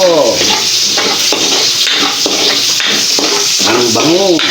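Onions dropped into hot oil in a pan for igado, a pork belly and liver dish, sizzle and crackle steadily with scraping stirs, while a faint voice-like tone surfaces now and then.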